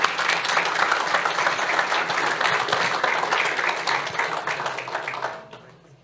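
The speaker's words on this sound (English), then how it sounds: "Another round of applause for Daniel." An audience at an award ceremony gives a sustained round of applause, dense and loud at first, then thinning and fading out near the end.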